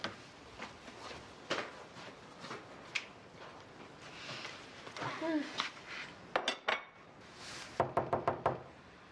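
Dishes being washed in a home kitchen: scattered clinks of plates and cutlery and light knocks, quiet and intermittent, with a cluster of sharper clatters near the end and people talking at times.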